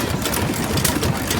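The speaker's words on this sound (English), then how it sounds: "that's a little gas engine" A small hit-and-miss gas engine chugs at an outdoor steam and gas show, giving a quick, regular pulsing beat over a busy background, close and fairly loud.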